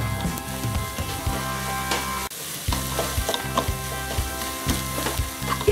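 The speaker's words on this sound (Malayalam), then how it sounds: "ഇത്രയും ചേർത്തതിന് ശേഷം നന്നായിട്ട് ഒന്ന് വഴറ്റണം." Ground coriander and black pepper masala frying in a pan for Kerala karimeen pollichathu, a close sizzle broken by rhythmic scraping strokes of a spoon, with a short pause midway before the stirring resumes.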